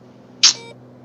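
A cockpit warning alarm in the X-Plane 11 flight simulator, a single short electronic tone of about a quarter second, loud and bright over a low steady engine hum.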